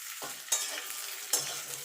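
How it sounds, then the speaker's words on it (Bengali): Spatula strokes scrape through jujube pickle and panch phoron in hot oil, with a soft background sizzle and two sharper stirring scrapes close by; no voices. "1 মিনিট মতো একটুখানি তেলের সঙ্গে নেড়ে নিলেই হবে"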